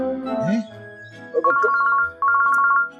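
A telephone ringtone chirps in two short repeated bursts of a bright electronic trill, close and clear.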